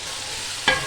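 Masala for beef liver kaleji frying in a kadai, a brief steady sizzle that ends in a sudden sharper hiss and a clink of a spoon against the pan.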